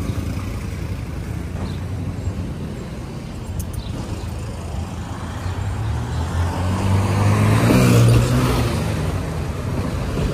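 A truck passes on a street in Thailand, its engine rumble and road noise swelling to a loud, close peak near the end before easing slightly, with no voices heard.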